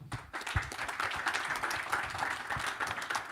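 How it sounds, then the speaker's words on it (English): At a hydrogen summit, an audience gives the panelists, speakers and moderators a round of applause: dense, steady clapping from a crowd that starts abruptly and holds at an even level for a few seconds. "Round of applause to our panelists,"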